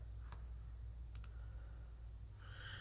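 Faint mouse clicks at a computer while working in craft design software: a single soft click, then a quick double click, over a steady low hum.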